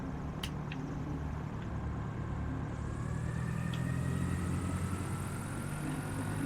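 Twin engines of a Camair 480 Twin Navion idling with props pulled back while taxiing, a steady low droning rumble with faint higher tones and a few brief clicks, continuous and moderately quiet.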